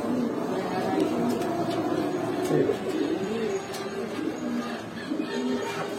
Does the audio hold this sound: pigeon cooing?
yes